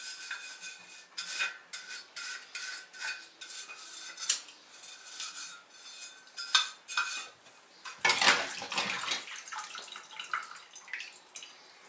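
A nylon brush scrubs a Corvair wire wheel hubcap in close, uneven strokes, with scraping bursts and occasional metallic clinks and rattles, no voices.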